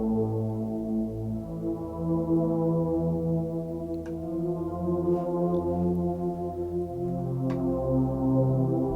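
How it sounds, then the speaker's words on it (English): A haunting synth pad, the Sweeper Sage Pad preset from Ableton Live, swells in slow sustained low chords with drifting tones, playing alone and fairly loud. "I used a sound from Ableton Live called Sweeper Sage Pad"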